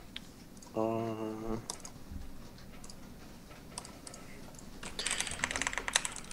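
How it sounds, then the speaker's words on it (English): Clicky mechanical computer keyboard keys tapped in quick bursts during a StarCraft 2 coaching session, fairly close and moderate in level, with a brief voice early on and a denser flurry of keystrokes near the end. "Oh man, I dig the mechanical keyboard."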